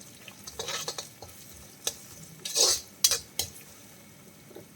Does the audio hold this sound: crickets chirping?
no